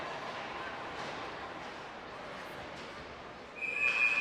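A referee's whistle at a basketball game between Woodbury and Grand Rapids gives a short, sharp blast near the end, rising above a steady roar of crowd noise in the arena.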